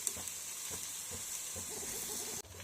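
Onions, green chillies and curry leaves frying in a pan give a faint, steady sizzling hiss with soft stirring knocks, heard close and alone.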